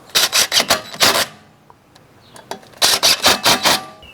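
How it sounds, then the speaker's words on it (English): Brake caliper hold-down screws being run in on a 2008 Hyundai Elantra 2.0L during a front brake pad job, two quick bursts of sharp, rapid ratcheting clicks separated by a short quiet pause. "I'm going to start those hold down screws first"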